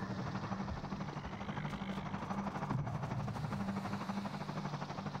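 A helicopter circling in the Half-Life 2 video game gives a steady low rotor thrum, faint and distant, a continuous pulsing drone with no break.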